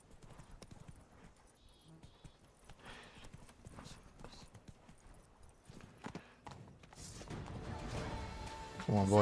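Horse hooves clip-clop in Witcher 3: Blood and Wine, a steady patter of game footfalls at moderate level, with louder game sounds building near the end.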